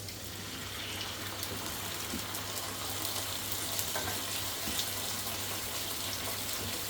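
Tomatoes tipped into a hot pan sizzle in a steady, even crackle that holds for several seconds, fairly close, with a faint low hum running underneath and no talking.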